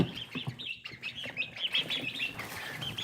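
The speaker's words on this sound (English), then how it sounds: "Look at my turkeys." Farmyard turkeys mingle with guinea hens and ducks, giving busy overlapping chirps, calls and wing flaps close by, with moderate clucking and chatter running throughout and no voices.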